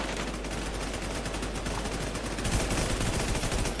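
Rapid automatic gunfire in the zombie survival game WarZ / The CrowZ, a steady dense rattle of shots throughout that grows slightly louder partway, with no voices.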